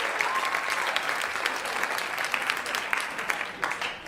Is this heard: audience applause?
yes